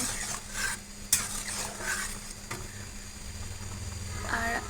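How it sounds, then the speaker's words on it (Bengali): A spoon stirs sautéed vegetables and freshly added broth in a pot for a hilsa fish curry, giving soft scraping and sloshing with a faint sizzle and an occasional sharp clink against the metal, all close by. "এখন আমি পরিমাণ মতো ঝোল দিয়ে দেব এখন নাড়াচড়া করে নিতে হবে"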